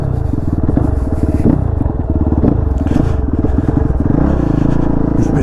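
A KOVE 450 Rally motorcycle ridden off-road, its single engine drumming loudly and steadily close by, with throttle surges and rattling clatter throughout.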